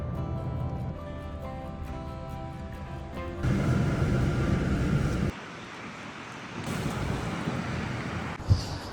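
Strong wind gusts across a gas station during a snowy Canadian winter, roaring and buffeting the microphone in uneven surges that drop briefly and return, with a sharp knock near the end.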